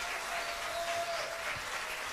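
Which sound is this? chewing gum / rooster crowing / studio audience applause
studio audience applause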